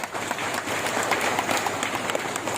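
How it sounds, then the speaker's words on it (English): Applause from an audience at the inauguration of the Patharkhmah civil sub-division, honouring the local MLA, a steady moderate wash of clapping that carries through the whole clip with no talk over it. "let's give a round of applause to your local MLA"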